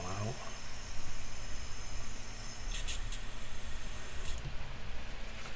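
An airbrush spraying out cleaner, a steady hiss of spray running for several seconds, with brief brighter bursts partway through.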